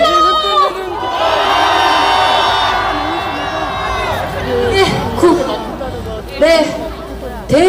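A large crowd shouts and cheers at a rally in front of the National Assembly in Yeouido, Seoul, on an impeachment day. The loud, sustained roar of many voices swells and dips, with a few sharper bursts of yelling near the end.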